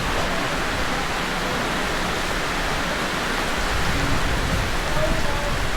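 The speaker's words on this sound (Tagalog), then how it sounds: "Grabe ulan." Heavy rain pours down at a fishport in Mercedes, a dense and loud continuous hiss of falling water that lasts the whole time, with no clear voices.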